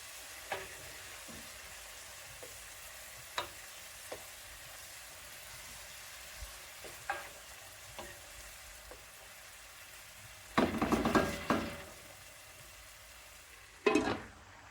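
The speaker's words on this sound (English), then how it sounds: "And just stirred that around a bit." Chopped tomatoes fry in a pot for pilau rice with a soft, steady sizzle, broken by occasional light taps and then two louder bursts of scraping as a spoon stirs them around.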